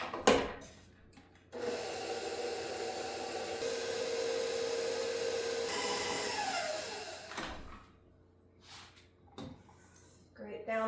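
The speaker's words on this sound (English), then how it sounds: "now we're just gonna go ahead and mix that one more time." Fluffernutter bar batter, made with Jif peanut butter, mixed in a bowl by a steady electric mixer whir for several seconds, with scraping and clatter at the start and end.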